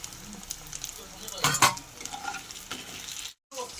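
Lote fish (Bombay duck) fritters fry in hot oil as they are turned and lifted out. A close, continuous sizzle runs under a few sharper scraping clatters from a utensil in the pan.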